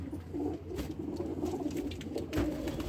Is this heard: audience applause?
no